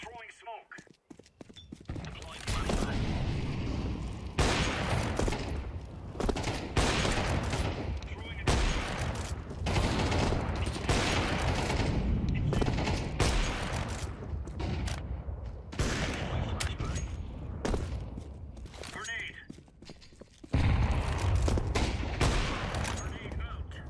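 Gunfire in a shooting video game, with rapid bursts and sharp repeated shots, clattering impacts and bursts of gameplay noise. Everything sits under constant talk from a player commentating over it.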